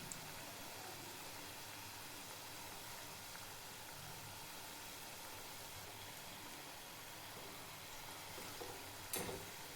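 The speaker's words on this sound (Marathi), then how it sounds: "कमी गॅसवरतीच तळून घ्यायचे आहे." Onion bhaji (kanda bhaji) fry in oil over a low flame, giving a faint, even hiss of bubbling oil that holds steady throughout, with a brief soft clatter near the end.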